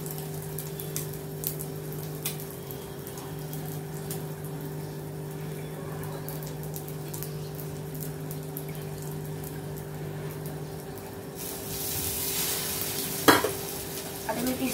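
Bread slices with egg frying in a pan, a steady low sizzle with a constant hum underneath, rising to a brighter hiss and a sharp clatter near the end; close, no voices.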